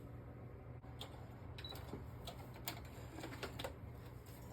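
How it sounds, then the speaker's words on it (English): A sewing machine stitches across paper for an artist trading card journal, a faint rapid clatter of needle strikes in short irregular bursts over a low steady motor hum. "can I put that in the sewing machine?"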